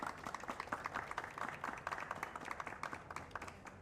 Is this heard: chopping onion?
no